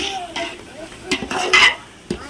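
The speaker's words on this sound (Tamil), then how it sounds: "இப்போ இஞ்சி பூண்டு போட்டாச்சு நல்லா கடையில் விட்டுக்குங்க" Ginger garlic paste frying in a pan for chicken biryani, a soft sizzle broken by several scraping strokes of a spoon stirring against the metal, close and fairly loud.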